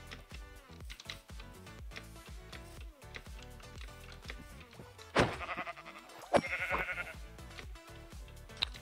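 Minecraft sheep bleat twice over busy game sounds and clicking keys, the calls fairly faint but clear against the steady in-game background.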